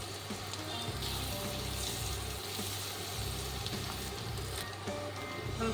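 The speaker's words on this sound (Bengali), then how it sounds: "পেঁয়াজ কুচিগুলো ভেজে নিচ্ছি, রসুন কুচিগুলো দিয়ে দিচ্ছি।" Chopped onions and garlic fry in a pan for lemon butter chicken, giving a steady, close, continuous sizzle with a low background hum and no voices.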